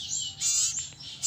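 A young sirtu owlet about two weeks old, still without a tail, gives shrill, wavering chirping calls close to the microphone in several short bursts.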